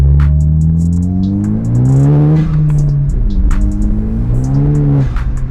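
A loud 10th-gen Honda Civic Si engine with a PRL Cobra cold air intake revs and drops repeatedly, its pitch sweeping up and down close by, with scattered clicks and hiss from the car with windows down.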